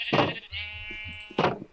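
Sheep bleat twice in Minecraft, two loud, close, separate calls with a short low murmur in between.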